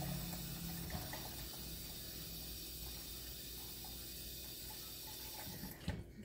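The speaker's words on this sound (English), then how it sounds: "Slosh it around a little bit." Warm salt water sloshes around inside a container, a soft, quiet swirling and trickling of liquid with faint hiss, ending in a brief louder clatter near the finish.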